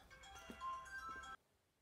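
Phone ringtone playing a faint tonal melody for just over a second under a busy background before cutting off abruptly.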